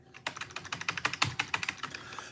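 Rapid typing on a computer keyboard, a dense run of close, crisp key clicks at a quick, slightly uneven pace, with no one talking over it.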